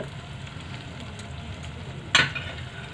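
Idli manchurian is mixed in a pan with tomato ketchup and white vinegar: a low steady simmer, then one sharp spoon scrape against the pan near the end.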